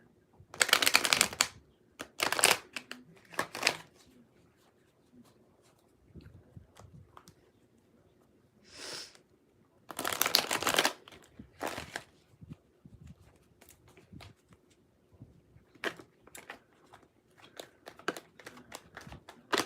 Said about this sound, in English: Let's shuffle these cards some more.